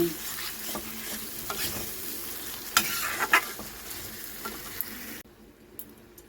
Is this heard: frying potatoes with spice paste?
yes